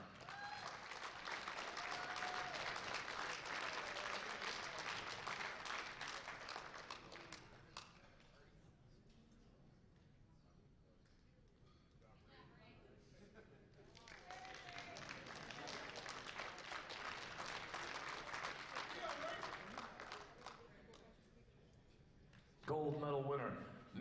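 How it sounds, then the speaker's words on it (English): Spectators at a national powerlifting meet clap in two long, loud rounds separated by a quieter stretch, with an announcer's voice carrying over the hall. "Big round of applause, multi-time world champion, Ray Baxter."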